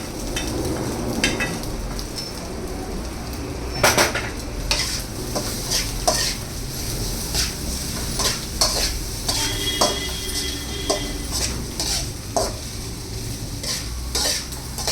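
Chapati pieces stir-fried with egg in a pan: steady sizzling with repeated scraping and clinking of a utensil against the pan, close and continuous, with occasional sharper knocks and no talking.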